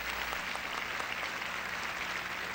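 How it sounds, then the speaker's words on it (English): Scattered applause from an audience at a 1973 Miss USA pageant, a steady, quiet wash of clapping from the hall that holds at an even level for a couple of seconds. "there's a gentleman in the Air Force who wants to applaud."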